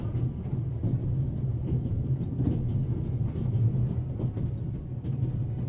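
Moving train in The Raven Remastered, a steady low rumble with rhythmic clacking of wheels over rail joints, constant and fairly loud throughout.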